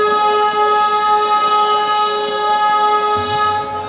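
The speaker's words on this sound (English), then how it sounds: "the super loud horns blast incessantly" A loud, sustained train horn blasts at Darjeeling railway station, holding one steady harsh tone with a low rumble beneath.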